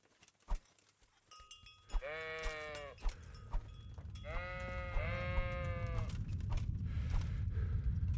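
Sheep in the medieval game Kingdom Come: Deliverance bleat in two long, quavering calls, loud and close, with scattered clicks and thumps around them and a rising rumble of background noise toward the end.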